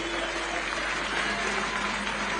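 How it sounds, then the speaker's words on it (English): Audience applauding for a royal highness at a formal gathering, a steady dense clapping that fills the whole moment without pause. "May we clap for our Royal Highness?"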